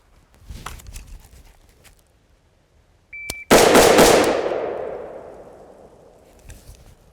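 A rifle fired from the low ready, the shots coming as a tight burst of sharp, loud cracks that ring out and decay slowly across the open range, with softer shuffling and handling noises before and after.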